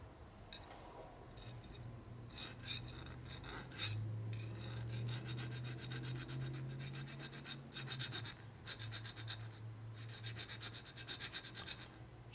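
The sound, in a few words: metal file filing a Harley shovelhead motor part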